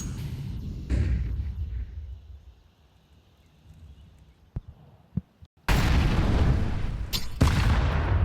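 A grenade blast in Counter-Strike during a PGL Masters Bucharest 2025 playoff match, a sudden loud burst of crashing noise after a quieter stretch with a few sharp clicks and gunshots, no talking.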